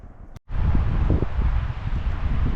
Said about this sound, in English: that wind just came through